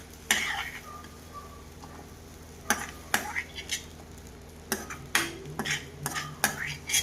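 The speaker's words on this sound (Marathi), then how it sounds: "अब नाखू छो टमाटा। जल्दी मिक्स करलो छो थोड़ा। लसण भी नाख दूँ। थोड़ा सा भूंजलू छे ना" Tomatoes, garlic and coconut roasting in a pan for shev bhaji masala, stirred with a utensil: scattered sharp scraping and clinking strokes over a faint sizzle, close by, with pauses between bursts.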